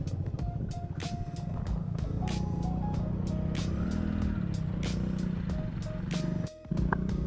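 A scooter climbs a steep hill at Khandoba Tekdi in Dhayari, Pune. Its engine gives a steady, close drone with a slight rise mid-way and a brief drop-out near the end.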